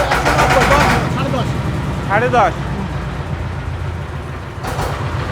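A 3 kW Wintech diesel generator engine runs steadily nearby with a low rumble, under a voice talking at the start and other voices briefly later.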